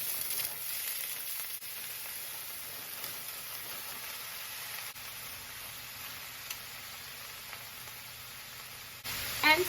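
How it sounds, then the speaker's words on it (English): Peppers and onions from two 20-ounce bags sizzling in half a spoonful of bacon grease in a hot cast iron pan, a steady soft hiss throughout with a brief louder rattle near the end. "now that I have my cast iron heating up, I'm gonna add about a half a spoonful of bacon grease. And then 2 bags of the 20-ounce peppers and onions"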